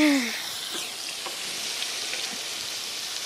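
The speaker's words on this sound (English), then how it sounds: "Who wants to see bacon sizzle?" A steady, close crackling sizzle of bacon frying in a hot pan at a campsite, with faint scraping near the start and end.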